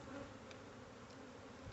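Honey bees buzz around a crowded hive while a hive is being split in early March, a steady, dense, quiet drone with no talk.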